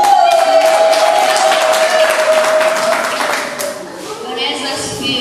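A church congregation at a children's festival claps in a sustained, loud round of applause with cheering voices, fading slightly toward the end.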